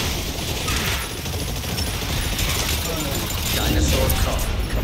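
Dense, continuous gunfire in Exoprimal aimed at swarms of dinosaurs, a steady roar of rapid shots and impacts with someone talking over it.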